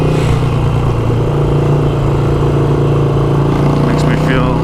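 A Harley-Davidson Iron 883 motorcycle rides on a morning commute, its engine a loud, steady mid-pitched drone with wind noise, holding constant with a brief rev near the end.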